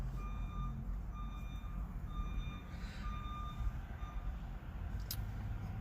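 A delivery vehicle's reversing alarm beeps steadily outside at a regular pace, moderately distant, over a low rumbling engine and background noise.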